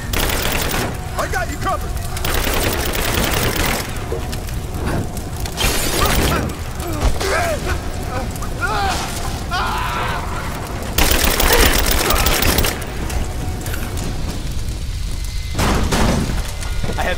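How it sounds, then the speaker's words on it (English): Sustained suppressing gunfire rattles through a Rise of the Tomb Raider battle, dense bursts of rifle and machine-gun shots with shattering impacts, loud throughout and peaking midway, while voices shout over the fire. "Give me suppressing fire! Now!"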